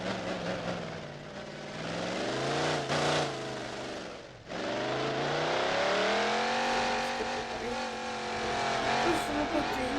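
A race car circles a track, its engine whining and rising through revs with shifting harmonic tones, dipping briefly as it lifts off before climbing again, moderately distant and continuous.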